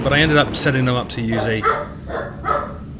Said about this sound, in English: Excuse the dogs.